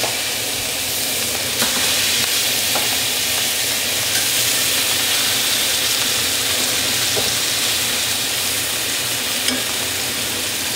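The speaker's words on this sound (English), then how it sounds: "now we're ready to put our steaks on" Filet mignon steaks sizzle loudly and steadily in a hot pan, a dense continuous frying hiss with occasional small pops, close and uninterrupted with no talking.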